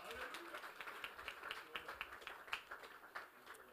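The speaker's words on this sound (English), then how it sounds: "We got to give God a clap for that." A church congregation claps for God at a 12th anniversary worship service, a quiet, steady rhythmic patter of handclaps heard under a speaking voice.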